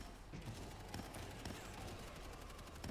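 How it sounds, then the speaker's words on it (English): Deployed machine guns fire at a fallback point in the zombie shooter World War Z: a loud, dense, continuous stream of rapid gunfire with sharp overlapping bursts throughout. "Get on the machine guns."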